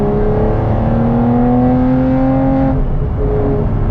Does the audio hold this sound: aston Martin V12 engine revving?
yes